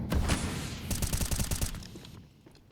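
Rapid Tech-9 pistol fire sprays in a competitive shooter game match, a dense burst of quick shots crackling loudly for about two seconds before cutting off to quieter ambience.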